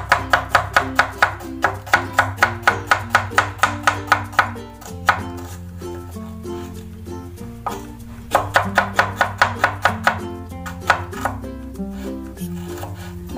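A sharp knife chops a medium-sized onion on a board in quick, evenly spaced strokes, two rapid runs separated by a slower stretch, all over steady background music.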